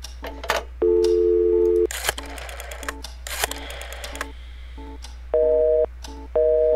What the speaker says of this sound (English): busy signal, damn it